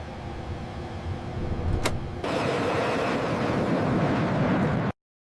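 An F-35 Lightning II jet taking off: a steady engine roar, a sharp transient, then a sudden surge to a louder, fuller rush that holds until it cuts off abruptly.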